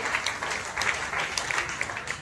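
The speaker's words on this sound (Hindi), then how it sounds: "हम सभी गुरु कंचन मम्मी सर जी की जबरदस्त ताली होना चाहिए" Brief burst of applause from an audience at a meeting, steady clapping from a modest crowd with some crowd noise beneath it.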